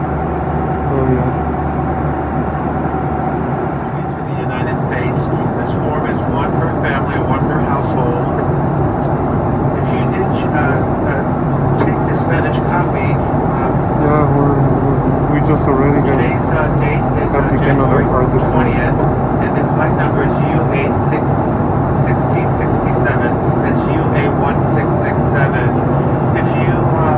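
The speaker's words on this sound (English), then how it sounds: "Making the landing into Chicago." Steady loud cabin roar inside an airliner on its landing approach into Chicago, a broad continuous engine and airflow rumble filling the whole stretch with a slight lift in intensity partway through.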